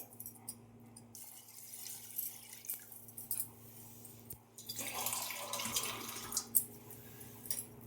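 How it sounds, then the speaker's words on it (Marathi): Water is poured into a pressure cooker holding washed dal, rising into a soft splashing trickle in the second half, faint and close over a low steady hum. "तर मी यात पाणी टाकते"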